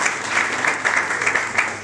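Crowd at a sports gala in Mielec applauds in a brief, dense burst of steady clapping.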